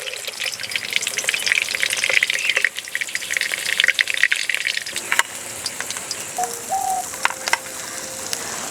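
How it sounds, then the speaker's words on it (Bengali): Tilapia pieces fry gently in oil in a pan over a low flame, a steady close hiss and crackle that runs throughout, with occasional light scrapes and no talk. "উনুনের জাল কমিয়ে একটু সময় নিয়ে ভাজতে হবে।"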